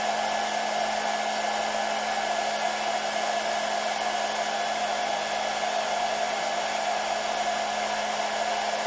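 A hair dryer blows steadily on a mini wind turbine, a constant even whooshing hum with a faint whine, unbroken and close for the whole stretch.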